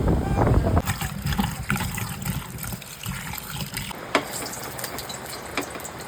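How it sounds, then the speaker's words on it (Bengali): Heavy rain falling in a steady, dense hiss that begins loud and settles into a continuous wash, with a few sharper spatters and what may be faint household sounds underneath. "হচ্ছে প্রচণ্ড বৃষ্টি"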